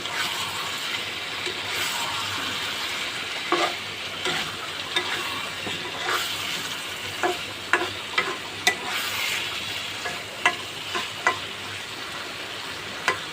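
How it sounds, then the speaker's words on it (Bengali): Chicken pieces coated in spice masala sizzle steadily in a pan while a spoon stirs them, with scattered clicks and scrapes against the pan over a constant frying hiss. "দেখেন আমি নেড়ে চেড়ে সুন্দর করে মশলাটা মাংসের সাথে মিশিয়ে নিচ্ছি।"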